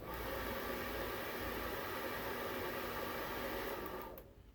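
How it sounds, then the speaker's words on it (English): A hair dryer blows a continuous, even whoosh of air into a DIY coal forge for several seconds, then cuts off as it is switched off. "Use the hairdryer, and we'll poke in there, and then we'll hit the button."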